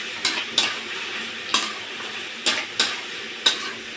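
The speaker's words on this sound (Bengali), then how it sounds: "আমি সেই জলটা নেড়ে চেড়ে মজিয়ে নিয়েছি" Taro stolons being stirred in a frying pan to cook off their water, a soft steady sizzle broken by five or six sharp spatula scrapes at irregular intervals, close and alone.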